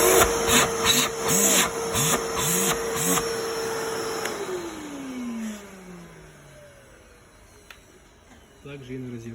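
A vacuum cleaner with hose and attachments runs during a working test, its motor hum holding steady and then winding down in a falling whine, with a voice speaking over the start.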